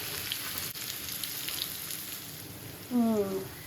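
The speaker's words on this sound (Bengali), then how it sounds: "তেল দিছি চুলায়, পেঁয়াজ দিয়ে নাড়া দিই" Onions fry in oil in a pan on the stove while being stirred, making a soft, steady sizzling hiss with faint crackles; a short voiced sound rises briefly near the end.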